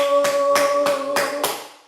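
Hands clapping in a steady rhythm, five or six sharp claps spaced about a third of a second apart, close and fairly loud, over a sustained tonal hum with no talking.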